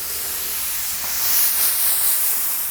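Steady, close aerosol hiss of activator sprayed over hydrographic film floating on water, a continuous spray lasting a few seconds and swelling slightly midway.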